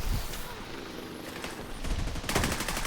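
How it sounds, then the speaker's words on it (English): Many players fire guns at once in a multiplayer game, with overlapping bursts and rattling shots building toward the end over a busy background, fairly faint overall. "Everyone's shooting bullets."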